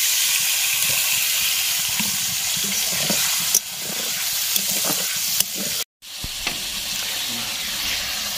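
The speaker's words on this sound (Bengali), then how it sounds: "মাছটাও সেভাবে ভেজে নেব।" Puti fish fry in hot oil with a steady, bright sizzle, broken by a few sharp pops and stirring clatters and one abrupt cut to silence midway.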